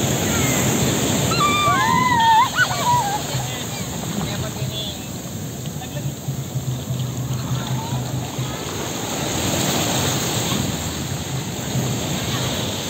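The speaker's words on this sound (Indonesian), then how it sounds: "Awas gede ombaknya." Ocean waves break on the white-sand Pasir Putih Florida beach at Anyer, Indonesia, a loud continuous roar of surf buffeted by wind noise, with faint voices and brief high calls over it.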